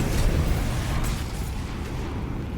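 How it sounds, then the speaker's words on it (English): A heavy cruise missile blast in a video game match rumbles loudly with a deep, sustained roar that slowly fades, close and alone without voices. "Nate using that cruise missile now"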